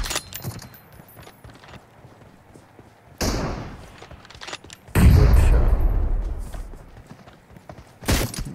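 Sniper rifle gunshots from an M24 in a video game, with sharp loud cracks and heavy booming reports at a few points, separated by quieter stretches of game ambience.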